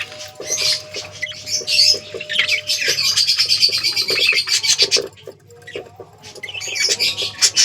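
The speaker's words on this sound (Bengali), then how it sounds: "তো চলো আমাদের নিচের পাখিগুলো একটু দেখিয়ে দিই।" Pigeons, lovebirds and budgerigars kept in a home loft chirp, tweet and squawk in a dense, overlapping chorus, close by and fairly loud throughout, with a short quieter lull midway.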